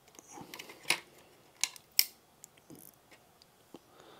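A Sega Saturn disc drive assembly popping off the console after its single screw is removed: a few small plastic clicks and snaps, close and faint, with light handling taps around them and no voices.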